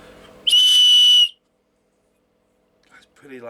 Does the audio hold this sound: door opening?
no